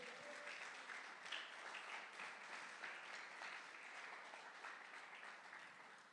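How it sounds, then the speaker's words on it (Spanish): Faint applause from a church congregation during a Sunday sermon, steady rippling clapping heard from a distance, low in level and with no voices over it. "Démosle un fuerte aplauso al Señor."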